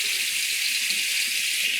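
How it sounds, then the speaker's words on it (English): Tap water runs steadily into a sink while someone rinses makeup remover off their face, a continuous close hiss of flowing water heard alone. "So once I rub it in, I rinse it off."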